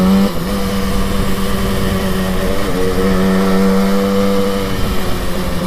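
A 1968 Yamaha YL1 Twinjet two-stroke motorcycle rides off, its engine buzzing loud and close with a steady, raspy drone and slight pitch shifts through the gears, with no talk.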